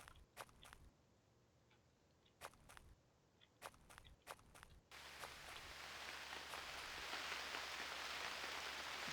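Footsteps crunch at a steady walking pace through snow in the UnReal World hunting game, then a dense, even hiss of rain takes over and continues alone to the end.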